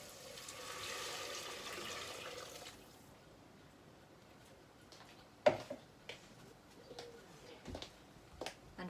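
A litre of stock pours into a pan of softened onions for pea soup, a steady splashing stream for about three seconds followed by quiet kitchen clatter and a few knocks.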